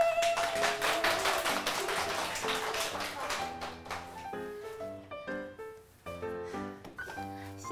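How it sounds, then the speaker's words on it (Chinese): Applause from an audience at a children's variety show, with a dense patter of clapping at the start that thins and fades as speech and music take over. "掌声鼓励"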